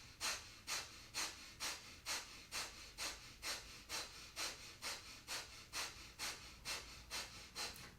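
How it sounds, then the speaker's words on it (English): Rapid rhythmic yoga breath of fire, close, forceful nasal exhalations in an even fast pulse of about two per second, around seventeen breaths, with no talking. "begin breath of fire"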